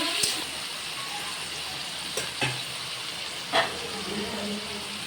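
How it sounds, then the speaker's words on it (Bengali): Water poured into a pan of cooking cabbage, a soft steady hiss and sizzle with a few brief clinks and bumps, close and fairly quiet. "অল্প একটু জল অ্যাড করছি।"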